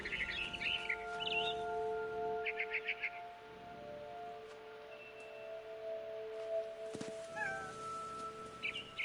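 In the video game What Remains of Edith Finch, a cat gives a few short meows and chirps over a steady ambient music bed, with bird calls from a frightened barn swallow mixed in nearby.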